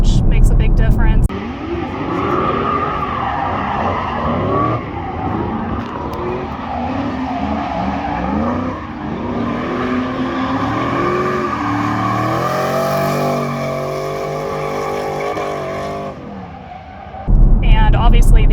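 A cam-swapped Camaro drift car roars continuously at high revs, its engine note rising and falling through the run with tire skid noise mixed in, loud and close for most of the stretch.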